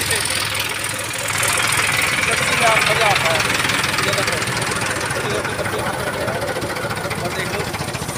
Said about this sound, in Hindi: छोटे छोटे बच्चे लगे हुए हैं जो डंठल की कटाई कर रहे हैं ट्रैक्टर के से